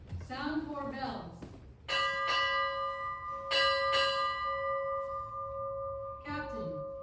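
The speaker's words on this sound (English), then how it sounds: "Sound 4 bells." Ship's bell struck in paired strokes at a United States Navy captain's retirement ceremony, the clear ringing tones sustaining and decaying after a voice speaks at the start, with a later strike coinciding with more talk.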